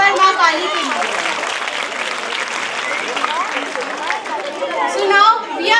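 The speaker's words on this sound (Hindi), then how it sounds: "तो जोरदार तालियां हो जाए पर माँ काली के लिए।" Applause breaks out from the audience at a school annual function after a Maa Kali dance performance, lively clapping mixed with chatter and shouting children, swelling toward the end.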